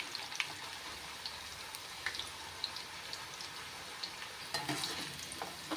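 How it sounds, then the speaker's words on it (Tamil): Constant crackling sizzle of raw banana slices frying in hot oil for chips, close and steady, with scattered sharper pops throughout. "இந்த எண்ணெய் கொதிக்கிற ஓசையெல்லாம் அடங்கிடும்"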